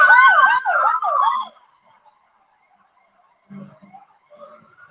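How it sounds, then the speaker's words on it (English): A siren wails in short rising-falling whoops, fairly close, then cuts off, leaving faint distant traffic noise. "Oh, and there's some sirens going."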